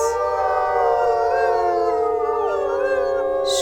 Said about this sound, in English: was that your deep howl?